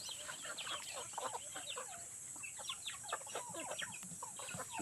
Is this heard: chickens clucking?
yes